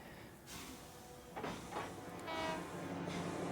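An in-game train pulls away in Paper Mario: The Thousand-Year Door, with a horn-like blast, rolling rail clatter and a few mechanical clunks over a steady hum.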